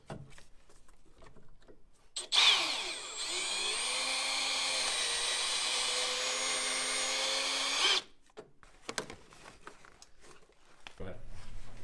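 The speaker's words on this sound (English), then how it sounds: "there's one little rivet in the corner here we've got to drill out" Power drill boring out a rivet on a Mazda Miata soft top, a loud steady whine lasting several seconds before stopping, with quieter handling noise before and after.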